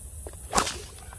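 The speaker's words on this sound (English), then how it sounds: "Smiling Sling's got crackers on the end, so they pop." A single sharp crack from the cracker on the end of a sling whips through the air, close and quick, with a faint swish before and after.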